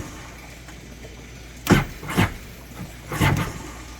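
An engine is cranked with the key and no throttle, in Demopolis, giving three separate short churning bursts of starter noise that fail to catch, close by, with quiet gaps between them.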